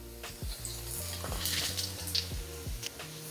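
Tofu drops into a hot pan over sautéed onion and garlic, sizzling and frying steadily, with several scrapes and stirring strokes audible over the continuous hiss.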